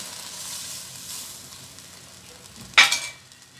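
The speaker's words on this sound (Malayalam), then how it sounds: "ഞാനിവിടെ 1 കപ്പ് വെള്ളമാണ് ഒഴിച്ച് കൊടുത്തേക്കുന്നത്" A cup of water hits a hot pan of Kottayam style fish curry base with tamarind, giving one loud, sharp burst of sizzling and hissing after a quiet stretch of gentle frying.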